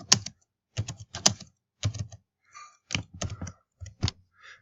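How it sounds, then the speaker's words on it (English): Fingers type on a computer keyboard in short, quick bursts of close, crisp key clicks separated by brief pauses, with no talking. "So if I was to type in ellipse, and I'm going to type some numbers in here."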